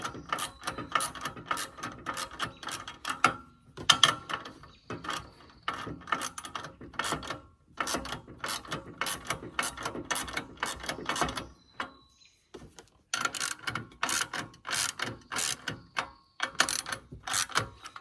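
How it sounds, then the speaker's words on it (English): A ratchet clicks in quick, steady runs while tightening the four bolts that mount the blades on a Swisher rough-cut pull-behind mower, close up with short pauses between bursts and no talk. "And once I get it tightened down, I'll have all four tightened."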